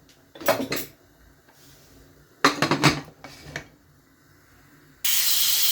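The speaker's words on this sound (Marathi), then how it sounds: "दुसऱ्या शिट्टीचा आवाज सुरू झालेला आहे हळूहळू" A pressure cooker cooking pea rice on a stovetop, with a few clanks and rattles of the lid before a loud, steady hiss of escaping steam begins near the end and holds.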